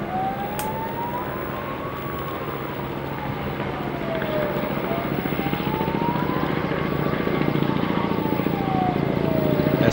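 Firefighting helicopters drone steadily over a forest fire with rotor chop and a wavering engine whine, growing slightly louder toward the end.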